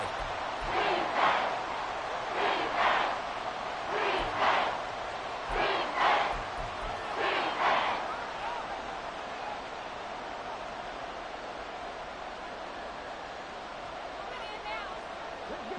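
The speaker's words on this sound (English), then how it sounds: "This crowd doing all they can." A Madden football video game stadium crowd chants and roars in rhythmic surges, loud at first and then easing into a steady background murmur.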